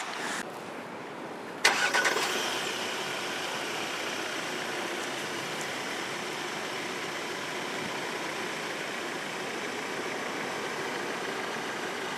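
A 2017 Audi A4 Avant, a front-wheel-drive wagon with a seven-speed automatic, cranks and fires with a sharp burst, then settles into a steady, even idle heard up close.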